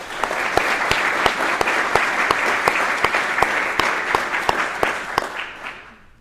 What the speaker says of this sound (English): Ladies and gentlemen, please give the guests of 1170 a round of applause.